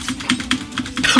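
Rapid keyboard typing during video game play, a close run of crisp key clicks in uneven bursts, briefly swelling louder at the end with no talk over it.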